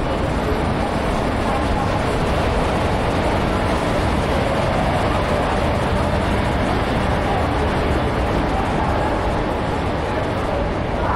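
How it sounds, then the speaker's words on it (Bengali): The Nilgiri Express pulls in with a continuous, heavy rumbling roar that stays loud and even the whole time. "আর নীলগিরি এক্সপ্রেস চলে এসেছে।"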